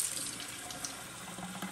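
Heated tap water runs steadily into the tank of a Tineco Floor One S5 Pro floor cleaner, a close, continuous splashing fill with no talk.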